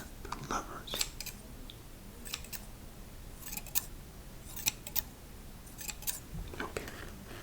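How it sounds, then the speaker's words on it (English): Crisp scissor snips cut into a military MRE pouch for cheese tortellini in tomato sauce, several close, distinct clicks spaced irregularly over soft rustling handling noise. "The trusty scissors for all you snip, snip, snip, snip lovers."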